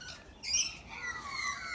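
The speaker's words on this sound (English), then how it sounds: "these are called noisy minor birds" Noisy miner birds call in a suburban backyard, giving faint, high chirps and squawky notes at a distance, with no voices.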